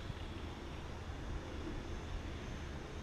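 A JDRC JD20 drone flies at 30% speed, giving off a steady, fairly loud whirring propeller drone that continues evenly throughout, with no talking.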